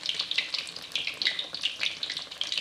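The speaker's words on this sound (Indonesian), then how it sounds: "lalu digoreng." Fishless pempek dough (already boiled until puffed) frying in hot oil over medium heat, a steady close crackling sizzle with bubbling pops, no voices.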